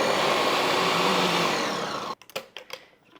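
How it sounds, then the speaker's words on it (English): A blender whirs loudly and steadily, blending a pumpkin cheesecake smoothie, then cuts off abruptly and is followed by a few knocks and rattles. "we'll give it another quick blend"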